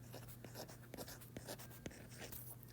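Pencil or pen scratches steadily on paper while someone writes out multiples by hand, a close, quiet stream of small strokes and taps with no talking.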